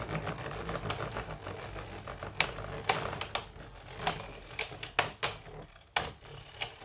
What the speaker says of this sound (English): Big scraping, lots of scraping.